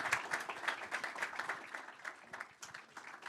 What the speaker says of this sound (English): Let's give a big round of applause for Geshan.